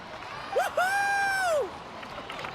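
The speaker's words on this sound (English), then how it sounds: "Let's give a huge round of applause to our brave young warrior, Kachina!" In Genshin Impact, a drawn-out cheering whoop rings out loudly over a faint bed of crowd applause, rising and then sliding down as it ends.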